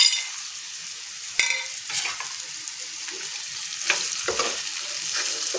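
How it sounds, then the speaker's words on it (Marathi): Green pigeon pea sandge fry in hot spiced oil, giving a steady close sizzle with occasional bursts and stirring scrapes, without talk. "हे सांडगे तेलामध्ये टाकून चांगलं परतून घ्यायचे."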